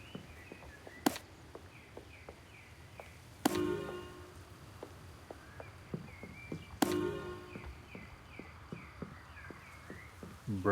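A horse shifting and stepping in a stable stall, hooves clopping in an irregular rhythm with a few louder thumps and knocks against the stall, close by, with faint birdsong in the background.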